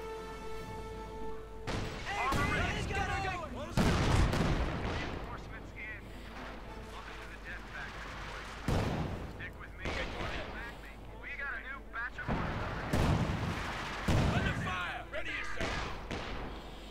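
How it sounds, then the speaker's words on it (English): Company of Heroes 2 battle gunfire, with rifle shots, machine-gun bursts and artillery booms, rattles and thumps in scattered clusters, fairly faint, under a commentator's voice. "More shooting, killing."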